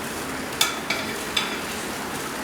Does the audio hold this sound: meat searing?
yes